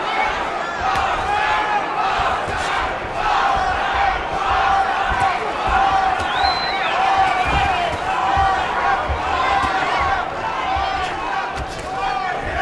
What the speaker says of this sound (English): Crowd is into it, cheering it.